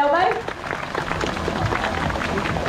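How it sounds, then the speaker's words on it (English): Audience applause at a sea lion show at Pleasurewood Hills in Lowestoft, Suffolk, a short burst of scattered clapping from a crowd, close and fairly loud. "Give a big round of applause."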